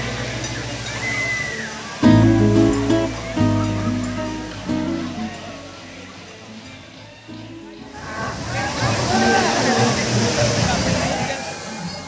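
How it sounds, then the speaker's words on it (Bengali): A giant bucket at a theme-park water play area tips over and dumps a heavy rush of water, a loud splashing roar swelling amid music and crowd noise with voices in the background. "ওই দেখুন বালতি এবার জম করে জল ঢেলে দিল।"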